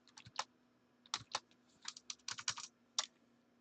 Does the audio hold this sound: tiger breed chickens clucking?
no